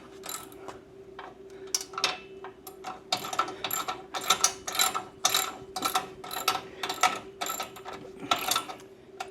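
A hand ratchet tightens Blue Ox tow bar bolts on a Jeep in a series of quick clicking bursts, close and fairly loud, with brief pauses between strokes and no talking.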